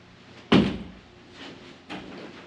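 A sliding closet door in a bedroom of an Eastvale, California rental home rolls open with one sharp, loud knock followed by a softer rumble and a second bump near the end.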